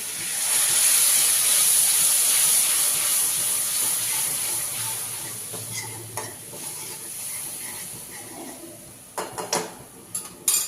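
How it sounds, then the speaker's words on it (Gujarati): Water poured into hot frying spice powders and garam masala for ragda patties bursts into a loud, steady sizzling hiss that slowly fades, with a few pan and spoon clinks near the end. "મસાલા બળી ન જાય એટલા માટે થોડું પાણી નાખીશું."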